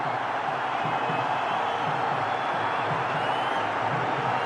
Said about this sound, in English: So the crowd come to life.